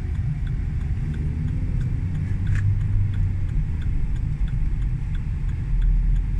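A car driving on a road through a town: a steady low engine and road rumble throughout, with a faint regular ticking over it and no talk.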